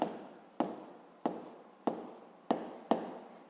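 A pen writing out calculations on paper: six short, crisp scratching strokes, each a sharp onset that fades, spaced about half a second apart, close and quiet.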